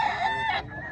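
Rooster crowing at a chicken expo in Mantalungon, Barili, Cebu, a single loud, close, strained call lasting under a second and cutting off sharply.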